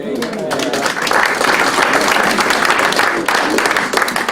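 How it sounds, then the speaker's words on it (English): Audience applause for a colleague during a company chairman's presentation at an annual general meeting, a steady wash of many hands clapping throughout, fairly loud, with faint voices mixed in. "So round of applause for Eric."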